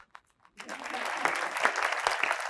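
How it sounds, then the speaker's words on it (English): Audience at a 2025 State of the City address breaks into applause after a couple of isolated claps, swelling into a steady, moderately loud patter of many hands that continues to the end. "and this is where you clap"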